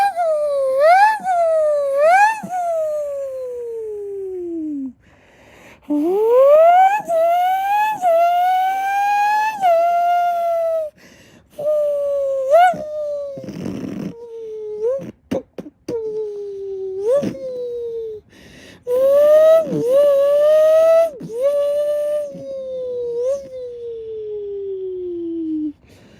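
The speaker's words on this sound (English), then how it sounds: "that sound was the regular Lamborghini V12." A regular Lamborghini V12 sounds out in a series of loud, high tonal revs. Each note sweeps up sharply, then winds down slowly, and short breaks fall between the runs. No one talks.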